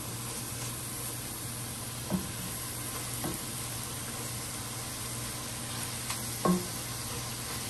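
Cooked beef for huaraches sizzling steadily in a pan as its juices cook off, a faint even frying hiss with a low hum and a few soft utensil taps.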